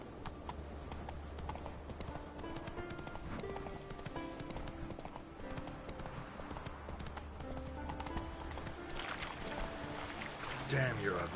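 A horse named Roach trots in a video game, its hooves clip-clopping steadily and close, with a voice speaking briefly over the rhythm.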